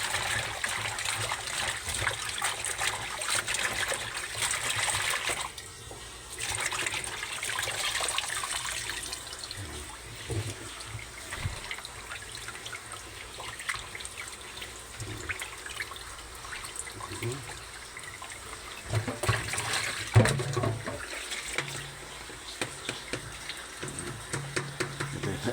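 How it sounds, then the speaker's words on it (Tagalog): Tap water running into a kitchen sink basin while tilapia is prepared for pesang tilapia, a steady splashing flow lasting throughout with a brief pause, a person talking now and then over it. "Nalagyan ko ng tubig ang dami."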